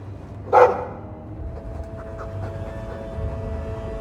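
In the game Dragon Age 2, a Mabari war dog gives a single short, fairly loud huff or pant near the start, followed by quiet ambient room tone.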